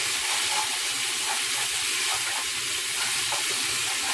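Seasoning stirred into a pot of Haitian rice and beans, giving a loud, unbroken sizzle and hiss close up, with soft stirring movement running underneath throughout.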